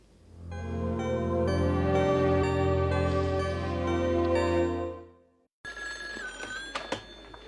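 A telephone rings with sustained bright electronic tones for about five seconds, loud and close, then cuts off before faint room noise and a brief clatter as the receiver is picked up.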